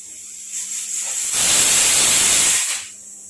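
Steam bursts with a loud, steady hiss from a pressure cooker whistle while potatoes boil, swelling for about two seconds and then dying back to a softer background hiss.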